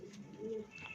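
A pigeon gives a single soft, low coo lasting under a second, fairly quiet and close, with no voices present.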